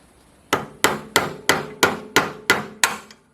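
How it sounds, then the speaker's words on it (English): Eight sharp, evenly spaced hammer taps ring out close by as a painted part is driven onto the rock shaft of a Farmall Cub tractor during restoration, each strike decaying quickly before the next. "Take the hammer and tap it just a little bit so we can."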